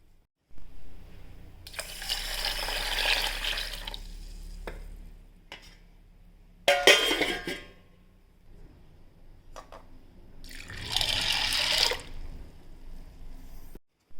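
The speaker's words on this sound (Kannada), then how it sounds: "ಎರಡನ್ನು ಜೊತೆಗೆ ಹಾಕಿ ಇದನ್ನು ಚೆನ್ನಾಗಿ 2-3 ಸರ್ತಿ ತೊಳ್ಕೊಳ್ತೇನೆ" Rice and urad dal are swished and rinsed by hand in a vessel of water, giving several separate bursts of splashing and stirring with quiet pauses between them, close and fairly soft.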